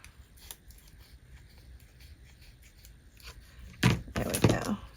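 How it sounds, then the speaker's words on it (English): Scissors trim the edge of a paper pocket on a junk journal page, with a few crisp snips near the end after a quiet stretch of faint handling noise. "So let me just trim this off a little bit here."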